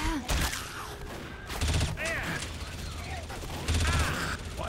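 Video game gunfire, repeated bursts of rapid shots in short volleys with sharp ricochet-like zips, loud and close, with voices talking between and over the shooting.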